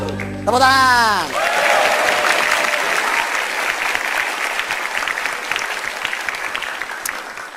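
Studio audience applause at a stand-up comedy show, bursting in loudly after a short musical sting and continuing as a dense, steady clapping wash with cheers mixed in.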